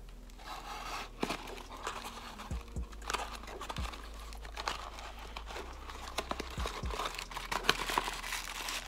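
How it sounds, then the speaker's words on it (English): A paper gift bag from a Dior beauty unboxing crinkles and rustles steadily when handled up close, with a few sharper crackles and bumps and no talking. "So here is this cute paper bag."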